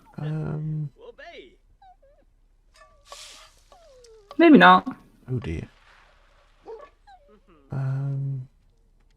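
Hungry pet dog in The Sims 4 whimpering and whining in short high cries, interspersed with a person talking quietly nearby.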